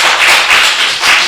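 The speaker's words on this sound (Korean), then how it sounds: "박수 한 번 더 칠게요." Clapping in a Korean church Bible lesson, a steady burst of group applause that swells and dips in waves across the moment, fairly loud and close with no talk over it.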